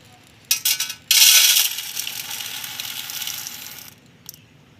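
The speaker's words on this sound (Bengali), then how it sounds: "প্রথমে আমি মুসুর ডালটা ধুয়ে নেব ভালো করে।" Red lentils (masoor dal) are washed in water: a short rattle of grains, then a sustained loud gushing swish that fades and ends with a faint final splash.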